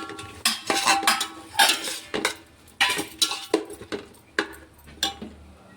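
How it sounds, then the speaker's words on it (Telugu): Cut tomato pieces going into a cooking pan for Telangana-style chicken biryani, with a run of sharp metallic clinks and scrapes of a spoon against the pan, close and fairly loud, no talking. "ఈ టమాటా ముక్కల్ని కొద్దిగా ఉడకనివ్వాలండి."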